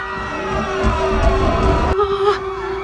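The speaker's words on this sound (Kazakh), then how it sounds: "Сиренаның даусы қатты шығып кетті" A steady, droning siren wails from the Siren Head video game, holding one loud tone throughout over a busy background with a sharp shift partway through.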